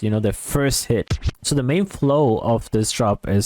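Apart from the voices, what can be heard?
None of the usual background noises is heard.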